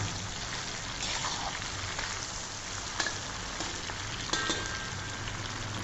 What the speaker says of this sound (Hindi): चिकन को अच्छे से आपने इसमें फ्राई कर लेना है एक बार।